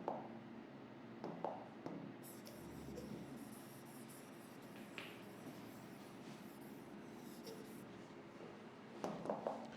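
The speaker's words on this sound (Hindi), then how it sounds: "क्योंकि मैं इसी पे लिखना चाहता हूं।" Marker or chalk writing on a classroom board during a physics lesson, with scattered scratchy strokes and taps that come in short bursts at the start and end, faint and close, with no speech.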